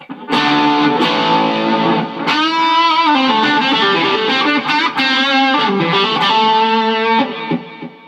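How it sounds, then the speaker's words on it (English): Sustained electric guitar lead with heavy distortion through a Boss ES-8 pedalboard preset, notes ringing out into a wash of delay repeats and reverb, loud and continuous with no talking. "it's kind of like my lead wet tone with a delay and reverb on there"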